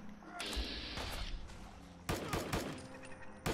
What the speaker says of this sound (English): it appears the dudes at the quarry... Have open fire